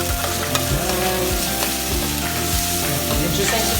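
Tomato sautéing in a hot pan on an induction stove for ginisang mais gives a steady, loud sizzle and crackle throughout, with a few soft stirring scrapes and no talking.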